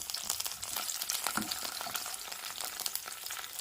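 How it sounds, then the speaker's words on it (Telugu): Green chillies and curry leaves fry in hot oil for a chicken curry, with a close, dense, continuous crackling sizzle and scattered sharp pops throughout. "ఇప్పుడు ఇలా వేసుకున్న పచ్చిమిర్చి కొంచెం ఫ్రై అయ్యే వరకు ఫ్రై చేసుకున్నాం"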